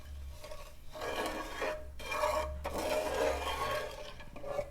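Spice masala being mixed with lemon juice in a bowl for Gujarati-style raita pickled chillies, a steady close scraping and rubbing of a spoon with short pauses, no talking.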